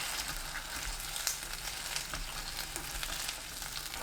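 Potatoes stir-fry in a pan for a braised potato dish, with a dense, continuous close-up sizzle and faint stirring scrapes, steady throughout and no voices.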